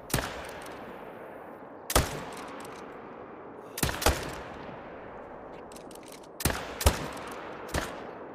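Hunting rifle shots from theHunter: Call of the Wild, about seven loud, sharp cracks at uneven intervals, some close together in pairs, each leaving a long echoing tail across open terrain with no talk over them.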